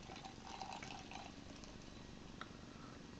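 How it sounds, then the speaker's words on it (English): Wells Banana Bread Beer, not heavily chilled, pours into a Kilkenny pint glass, a soft continuous gurgle and fizz close by, fairly quiet throughout. "Okay, it's pouring alright."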